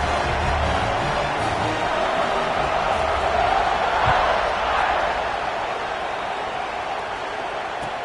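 Broad, steady roar of a large college football stadium crowd at Tennessee versus Notre Dame, sustained and fairly loud, slowly easing off toward the end.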